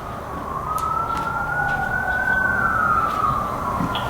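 Emergency vehicle siren wailing through a big city street, a steady rising and falling tone held over constant traffic rumble for the whole stretch, fairly close and prominent.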